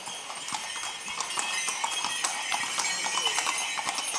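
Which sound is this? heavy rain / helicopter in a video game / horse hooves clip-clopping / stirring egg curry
horse hooves clip-clopping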